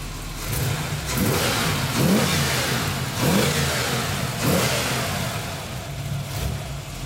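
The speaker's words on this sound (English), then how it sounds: "Nice running engine, but time for it to go." A supercharged LS1 V8 engine in a 1964 Impala revs up in several repeated bursts over a steady idle, loud and close, with no talking.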